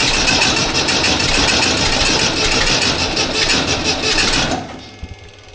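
A Volkswagen Beetle ute engine runs loud and rough with a rattly, pulsing clatter for several seconds, then cuts out abruptly, leaving near silence broken by a couple of faint knocks.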